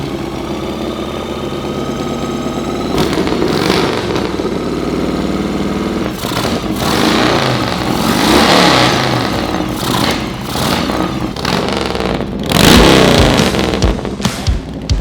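A Harley motorcycle, rebuilt after being totaled, idles with a steady rumbling throb and rises in several revving bursts, loud and close throughout with no talk.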